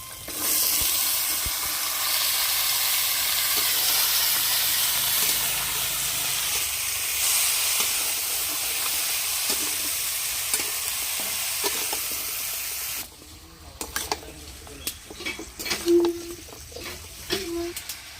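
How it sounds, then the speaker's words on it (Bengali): Chopped raw jackfruit goes into spice masala that has already been fried down, giving a loud, steady sizzle and frying hiss for about thirteen seconds before it drops to quieter stirring clinks and scrapes. "মশলা কষানো হয়ে গেছে ইঁচড় দিয়ে দেব কেটে রাখা ইঁচড়গুলো দিয়ে দিচ্ছি"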